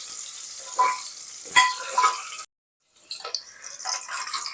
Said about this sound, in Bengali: আলুগুলো আমার ভাজা হয়ে গেছে